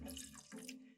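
Hydrogen peroxide, 3% and 150 milliliters, poured into a yeast solution: a short, soft trickle and splash of liquid running into a container, close and quiet, with no speech.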